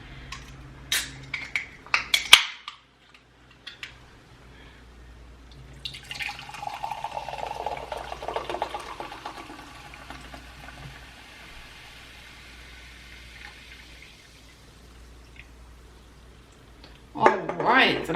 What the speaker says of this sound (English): we have us a blueberry pomegranate bubbly. So let's go ahead and pour that up.